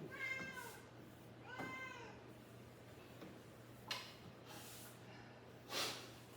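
Two drawn-out cat meows close by, each rising and falling, followed by a couple of short sniffs or snorts against a quiet room hum.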